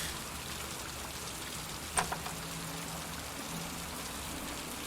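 Rain falls steadily in the Heavy Rain video game, a soft, even hiss of drops with one brief click partway through.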